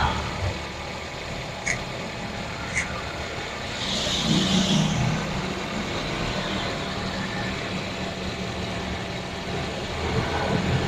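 A car engine runs at a steady idle while being prepared for an air conditioning freon refill, a loud continuous drone up close with a slight rise in intensity partway through.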